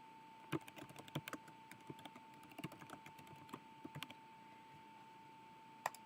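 Steady, quiet tapping of computer keys while typing a commit message, irregular clicks spread evenly through the passage with a faint constant hum behind.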